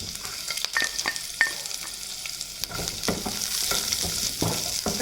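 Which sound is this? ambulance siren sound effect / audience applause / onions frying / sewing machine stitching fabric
onions frying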